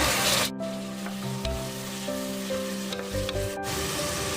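Steady sizzling and crackling of chopped tomatoes frying in a pan, with clattering stirring and scraping throughout and a couple of brief pauses.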